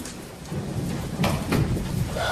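Rain falling steadily with low rolling thunder swelling beneath it in a Western film, a dense, close wash of sound with no voices.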